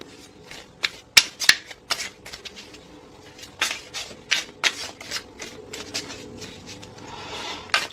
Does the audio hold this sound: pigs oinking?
no